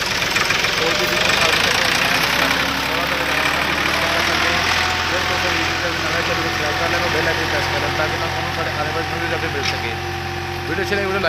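A Massey Ferguson 260 tractor, a 2018 model with a turbo engine, idles with a steady diesel knock and vibration close by while someone talks over it.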